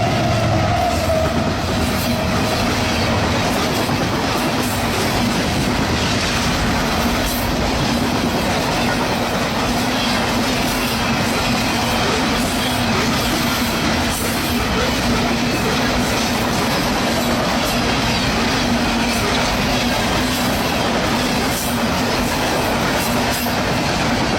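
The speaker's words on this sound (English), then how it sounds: "the northbound Tropicana juice train is highballing" A northbound CSX Tropicana juice freight train passes close and loud at speed, with continuous rumbling and a rhythmic clickety-clack of wheels that lasts throughout.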